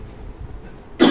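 A single sharp, loud cough from a teacher with a sore throat breaks a quiet pause near the end.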